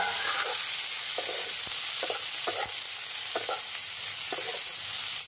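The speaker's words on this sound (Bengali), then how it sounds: "দিয়ে খুব ভালো করে এটাকে আমি এখন হালকা সটে মতো করে নেব" Ginger, garlic and coriander stems are sautéed in a pan, giving a steady close sizzle with intermittent stirring scrapes throughout, and no voices.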